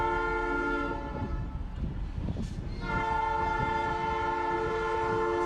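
A freight train led by three engines passes close by, sounding a loud sustained multi-tone horn that breaks briefly and resumes over a heavy rumble of rolling cars.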